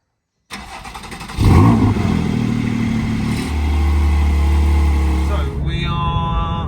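A GT4 car cranks and fires up, the engine catching with a rev burst before settling into a steady, loud idle and then pulling away with rising engine note, close by and without talk.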